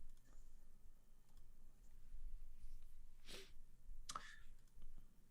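A single sharp sneeze, followed a moment later by a second short sneeze-like burst, close over a low steady room hum during a tabletop role-playing game session, with no words spoken.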